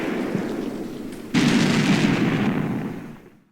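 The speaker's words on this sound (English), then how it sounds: "The 8 tank contacts turned into 9, which all unloaded their main guns into the woods." In the Combat Mission video game, tank main guns firing into woods start as a rumbling volley, then a loud, heavy blast booms in and rolls away to silence.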